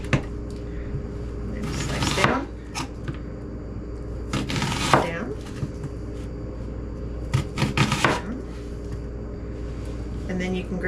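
A kitchen knife slices through a vegetable for Texas fajitas, three separate bursts of crunchy cutting against a board with a person speaking in between.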